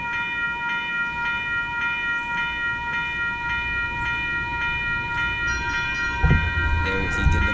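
An ION light rail tram's bell rings in repeated, steady strokes as it waits nearby at the Caroline and Erb Street crossing, with a low rumble and a few clunks near the end.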